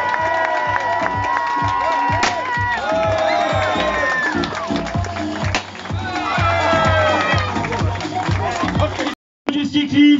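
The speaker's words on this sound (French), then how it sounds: "Allez, on fait du bruit pour William Bonnet." Cheering crowd noise for a cyclist at a career tribute, shouts and whoops over a pounding music beat with an announcer talking throughout, briefly cutting out near the end.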